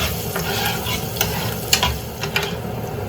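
Onions and garlic frying in a pan, a dense continuous sizzle close to the mic, with a few scrapes and stirs breaking through.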